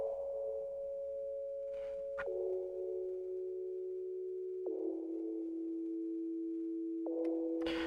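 Synth melody with a pure, sine-like tone playing a few long sustained notes that step down in pitch with brief clicky attacks, quiet and alone, ending on a slightly higher note.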